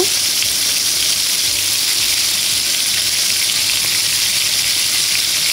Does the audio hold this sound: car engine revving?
no